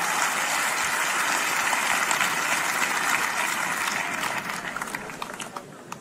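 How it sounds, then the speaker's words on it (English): A church congregation claps for Jesus Christ at a service, a broad wash of clapping that stays steady before slowly thinning out toward the end. "Put your hands together for Jesus Christ"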